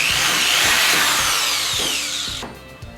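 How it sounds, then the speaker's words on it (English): A power drill bores a hole, with a quarter-inch bit, for a JSP Type-R/A-Spec rear wing being installed on a car. A loud, sustained high whine runs for over two seconds, then cuts off, leaving a few faint clatters. "Now that your hole's drilled, let's do the other one and then test fit the wing."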